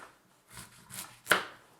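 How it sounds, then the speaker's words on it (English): A serrated knife saws back and forth through a long, round squash, cutting it into coins on a cutting board; a few soft scraping strokes lead to one sharp, close chop as the blade meets the board. "Notice how I'm just sawing back and forth and letting the serrated blade of the knife do all the work."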